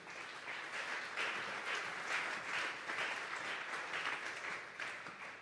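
A large church congregation claps continuously in a sustained, even wave of applause that swells slightly and carries on throughout, with faint room echo.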